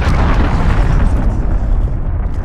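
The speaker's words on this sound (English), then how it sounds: "Enemy cruise missile incoming! Take cover!" Cruise missile explosion in the Call of Duty: Modern Warfare video game, a loud, sustained deep boom with rumbling debris that fills the whole moment without letting up.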